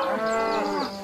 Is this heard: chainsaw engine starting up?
no